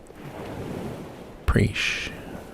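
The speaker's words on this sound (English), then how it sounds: "Sitting here with the waves rolling in." Ocean waves roll in on a beach, a steady wash of surf with a louder crash and hiss near the end, broken by wind noise on the microphone.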